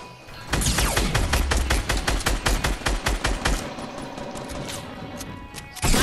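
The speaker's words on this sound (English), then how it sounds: "Somebody shot you with a shotgun?" Rapid burst of gunfire from a shotgun-type weapon in the video game Fortnite, a dense string of loud shots for several seconds that thins out, then a sharp loud blast at the end.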